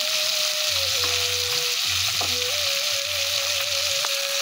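Onion and tomato frying with a paste of cumin, mustard and green chilli for a fish curry, a constant bright sizzle heard close, with a steady tone and faint low thuds beneath it and no speech.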